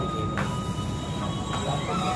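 Train rolling through Gambir station in Jakarta, a steady rumble with faint wheel squeal and brief metallic accents, heard close and continuous amid station ambience.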